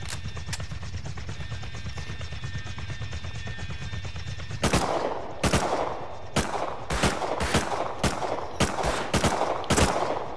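Video game gunfire: a steady stream of rapid automatic fire at first, then a series of sharp, loud separate shots cracking out at irregular intervals, close and prominent with no talk.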